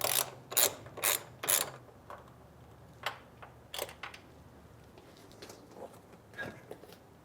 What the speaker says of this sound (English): You will need a 10mm socket for the seat.